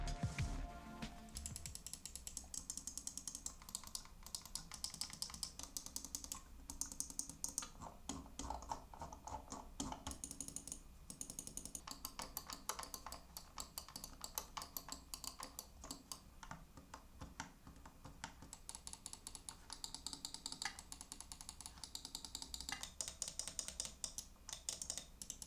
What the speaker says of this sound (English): here's a quick test on how each of these buttons sound